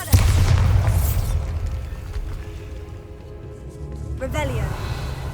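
A Bombarda explosion spell in Hogwarts Legacy goes off with a loud low boom at the start, its rumble decaying over several seconds alongside game ambience and sparkly magical effects near the end.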